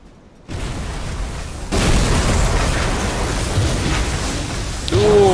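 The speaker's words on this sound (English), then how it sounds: "Ooh, big explosion." A torpedo explodes against a ship in the U-boat submarine game Uboat, a sudden loud boom that swells into a sustained roaring, rumbling wash of debris and water.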